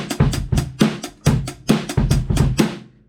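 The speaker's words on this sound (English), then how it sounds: "and the offbeat bass sounds like..." A kit drumming pattern with offbeat bass drum hits woven between the other strikes, a steady run of about a dozen punchy hits played close and loud, no voices.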